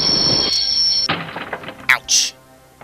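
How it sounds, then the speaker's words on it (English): A train braking to a stop in Broken Sword: a high metallic screech of wheels that cuts off with a heavy thunk, then clanks and short squeals, with a voice briefly heard. "I always wanted to stop a train. And now was my chance."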